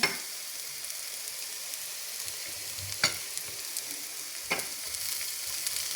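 Garlic leaves sauté in a pan with a steady, close frying hiss throughout, broken by a few brief utensil clicks and scrapes.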